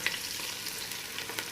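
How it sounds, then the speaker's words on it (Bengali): Ginger-garlic paste fries gently in a pan with a soft, steady sizzle and a few light stirring scrapes, faint and close, with no voices. "দেখুন আদা রসুন এটা একটু ভাজা হয়ে আসছে,"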